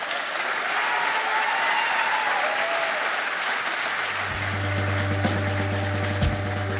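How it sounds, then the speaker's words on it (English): Audience applause at a graduation ceremony, a steady wash of clapping throughout that stays loud, with a sustained low tone joining partway through. "Another round of applause for Tim."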